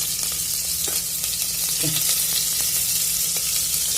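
Onion sautéing in hot oil with cumin and mustard seeds for khichdi, a loud, dense, continuous sizzle close up, with a few clinks and scrapes of stirring and no voices.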